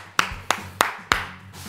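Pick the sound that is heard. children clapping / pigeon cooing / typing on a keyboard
children clapping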